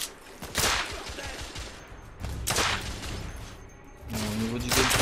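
Bursts of gunfire ring out in the video game The Order: 1886 as the player takes cover and gets shot at, several sharp volleys and booms spaced a second or two apart, with brief talk between them.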